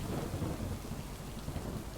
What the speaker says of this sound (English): being in a forest during a thunderstorm is probably not the best idea, but the water sound coming off the leaves